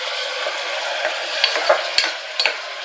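Ground onion paste sautéing in a pan, a continuous close sizzle with a few sharp spoon-against-pan scrapes and taps as it is stirred, no speech.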